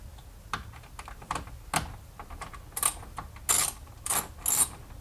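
Ratchet working loose a 10 mm bolt on an ND MX-5 Miata during a front sway bar install: short bursts of quick metallic clicking, several separate runs close by, no talk.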